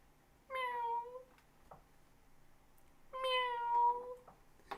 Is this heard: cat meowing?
yes